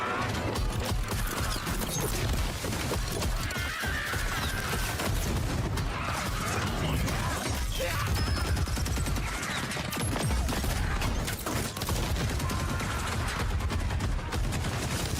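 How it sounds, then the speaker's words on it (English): Miniguns roar in a Total War Warhammer battle trailer, dense sustained gunfire pouring into woods, with crashing impacts, booms and mechanical whirring layered in a loud, unrelenting barrage. "That's a lot of shooting into woods."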